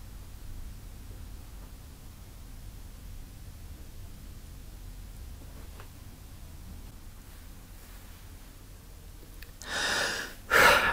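Sharp gasping intake of breath after a breath-hold during a fingertip pulse oximeter test, arriving as a loud burst at the very end after a long stretch of near-silent low hiss.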